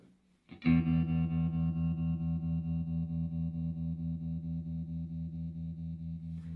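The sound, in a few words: guitar through 1966 Fender Deluxe Reverb amp with vibrato on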